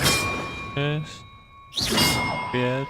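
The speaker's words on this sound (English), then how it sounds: "To ring the bells in." Bells are rung in Hogwarts Legacy, with bright metallic clangs and dings that ring out with sustained tones, two separate strikes about two seconds apart, close and clear.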